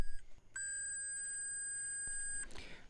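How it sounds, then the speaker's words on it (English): A voltmeter's continuity buzzer sounds a steady, sustained beep for about two seconds, preceded by a couple of short blips and followed by a clattering touch. "if you have like a buzzer setting on your voltmeter, when you make continuity, it'll make this buzzing sound"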